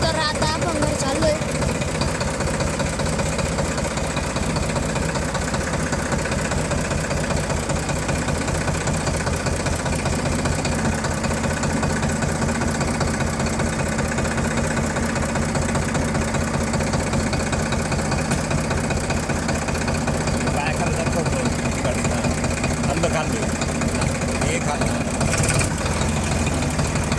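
An engine revved on a farm, a steady, continuous mechanical drone with broadband rumble and vibration throughout, fairly loud and close.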